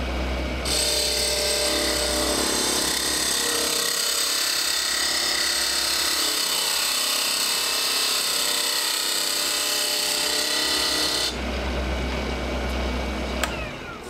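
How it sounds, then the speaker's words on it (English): A high-pitched power tool whines steadily and loudly at close range while it bores out the barrel of a duck call, running almost without pause, easing slightly near the end. "I'm just using this tool here to open up the barrel a little bit so the air flows in nice and smooth."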